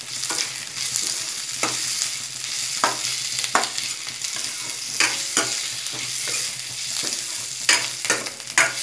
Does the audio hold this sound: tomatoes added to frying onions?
yes